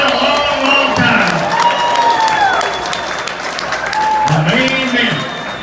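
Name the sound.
crowd applause at drag racing event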